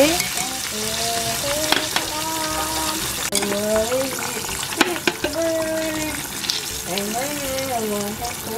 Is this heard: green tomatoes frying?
yes